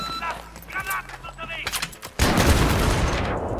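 Gunfire from Battlefield 3 gameplay breaks out in a loud, sustained burst after someone talks over quieter game sounds, rapid shots merging into a dense roar.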